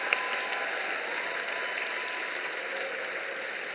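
A church congregation applauding a teacher honoured for long service at a teacher appointment and award ceremony, soft and distant, steady clapping lasting several seconds in a large room.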